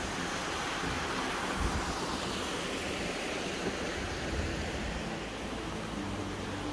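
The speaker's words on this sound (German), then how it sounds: "Schaut, da ist noch ein kleiner Wasserfall." A small waterfall on a stream along the Emme produces a steady, soft rushing wash of falling water, faint and even throughout, with no voices.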